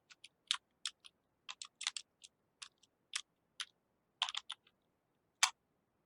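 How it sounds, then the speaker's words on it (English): Someone types a message on a computer keyboard in a quiet room: sparse, crisp key clicks arrive in small irregular bursts with pauses between them, close and clear with nothing else audible. "I type in a new message"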